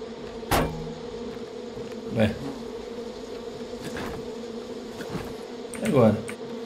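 Wasps swarm a nest in the video game Far Cry 5, a steady droning buzz that carries through the whole stretch, with a few louder swells as insects pass close.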